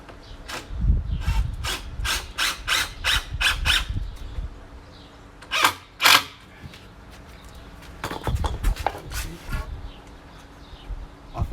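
A power driver sinks screws into wood during construction of a firewood storage shed, heard up close as clusters of short, sharp whirring bursts separated by pauses.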